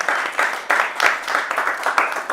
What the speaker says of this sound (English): Please, Metron people, welcome the podcast people by your applause